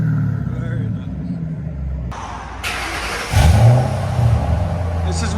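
A 2005-2009 Ford Mustang GT California Special with a 4.6L V8 and its exhaust valves closed revs once to a deep, rising roar that then settles to a burbling idle, with someone talking over it.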